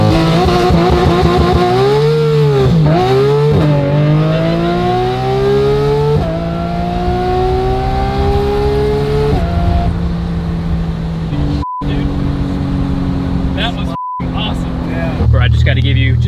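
A procharged Porsche GT3 RS engine revs hard and close, its pitch swooping and then climbing steadily into a sustained high scream near 9,000 RPM, broken by two brief cuts before it settles into a lower drone.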